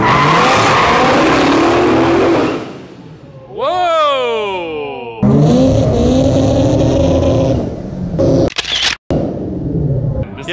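A Dodge Hellcat and a turbocharged Mazda RX7 launch in a drag race with spinning tires, producing a loud roaring engine rush followed by rising revs and engine noise close by.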